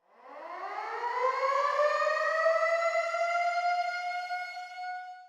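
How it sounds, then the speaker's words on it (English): A wailing warning siren rises smoothly in pitch and holds a long, steady tone, sounding alone without any voices, heard at 7:57 in the morning aboard a naval base. "The siren, which probably no sailor wants to hear"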